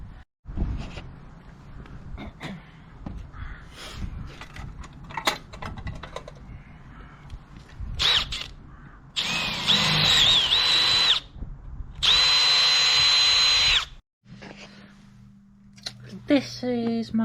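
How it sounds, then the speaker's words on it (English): A worn hole in a Fordson Major tractor gear stick is drilled out to a slightly larger size: scattered workshop clatter and handling noises, then two loud, sustained whining drill bursts separated by a short pause. "Going to drill that out to a slightly bigger size"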